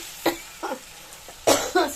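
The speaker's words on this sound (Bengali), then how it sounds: "সরি কাশিটা আছে" A woman coughs during home cooking, with several short, sharp coughs in quick succession, close and clear against a quiet room.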